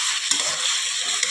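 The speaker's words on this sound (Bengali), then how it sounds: "ভালো করে এটা কষিয়ে নেব" Soya chunks being sautéed in a home-kitchen pan with potatoes, a steady bright sizzle and frying hiss with occasional stir scrapes, close and continuous.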